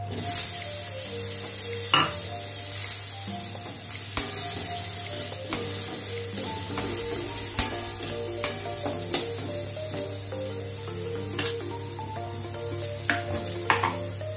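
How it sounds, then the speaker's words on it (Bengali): Dried red chilli, black mustard seeds and chopped mango crackle and sizzle in hot oil, a steady frying hiss with stirring scrapes and occasional sharp spatters, close and continuous, with a low tonal hum running underneath. "একটা শুকনো লঙ্কা দিয়ে দিলাম, একটু কালো সর্ষে ফোড়ন দিয়ে দিলাম। এবার আমি আম কেটেছিলাম সেটা দিয়ে দিলাম।"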